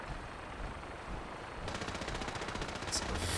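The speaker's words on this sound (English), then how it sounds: "I hear gunfire." Rapid bursts of distant gunfire in Fallout 4 crackle over a steady background hiss, growing denser and louder in the second half.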